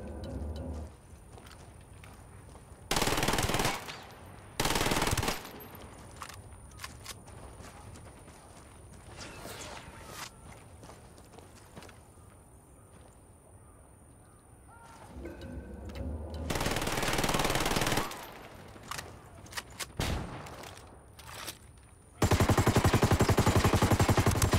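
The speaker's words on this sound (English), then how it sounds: "Love being able to shoot through stuff with heavy calibers." Heavy-caliber gunfire in the video game Ghost Recon Wildlands, loud bursts of shots at intervals, with a longer sustained burst near the end over a low in-game background.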